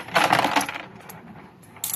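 Coins clatter and jingle as they drop while money is being counted, with a loud burst of clinks at the start that thins out, then a brief final rattle, no talk.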